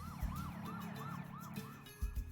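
An ambulance siren in the Two Point Hospital video game wails in a repeating up-and-down cycle, moderately loud, with a couple of soft thumps near the end.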